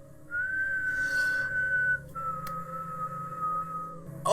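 A character's whistle from The Walking Dead: Dead City: two long, steady sustained tones, the first slightly higher than the second, clear and close over a low background hum.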